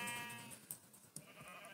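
Quiet bleat of a sheep in Minecraft, a wavering, tonal cry heard up close with no talking.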